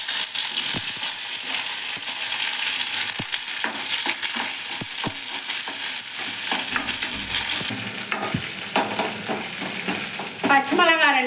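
Sliced onion sizzling and frying in hot oil in a kadai with dried red chillies, fenugreek and mustard seeds, a steady loud sizzle with repeated stirring scrapes and small pops, no talking.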